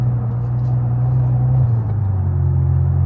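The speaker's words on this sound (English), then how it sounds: "Definitely got a pretty loud rumble just at idle" A Porsche Boxster fitted with an inexpensive eBay aftermarket exhaust idles cold, giving a steady, loud low rumble that drops slightly in pitch partway through and holds on alone with no talking.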